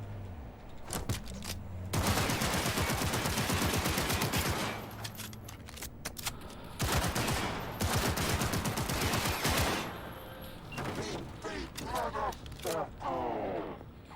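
Bursts of rapid gunfire from a handheld gun in a video game, loud and close, coming in dense volleys with brief pauses between them, with speech in the background.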